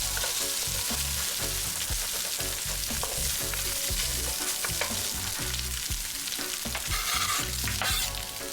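Scrambled eggs being mixed into smoke meat fried rice in a pan, with a loud continuous sizzle under repeated scraping and clattering of a utensil against the pan, no speech.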